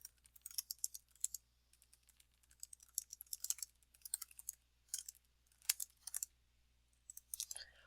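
Keys clatter on a computer keyboard in quick, uneven bursts of typing with short pauses between, close and fairly quiet against a faint steady hum, while a name and objective are entered in a financial analysis tool.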